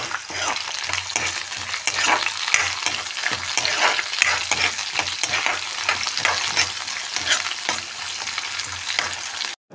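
Four or five green chillies frying in hot oil for bagara rice, a continuous close sizzle with rhythmic stirring scrapes running throughout and no voice.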